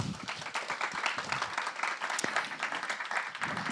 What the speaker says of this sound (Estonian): Nii et teeme neile ka aplausi.